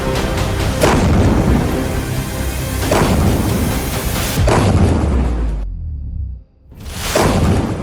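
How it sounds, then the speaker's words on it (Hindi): Iranian missile impacts in Haifa, Israel, a run of heavy booming blasts and rolling rumbles one after another, loud and close, with a sudden cut to near silence before another roar. "ईरान के मिसाइल उत्तरी इजराइल के हाइफा शहर पर गिर रही है।"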